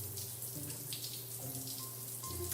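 Running water from a shower in a drama series scene, a steady splashing flow with a low hum beneath, heard alone without voices.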